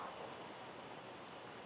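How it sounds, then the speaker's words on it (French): Rain pours steadily on an outdoor church service in Abidjan, a faint, even hiss of falling water with no voices, constant throughout. "plus la pluie augmente"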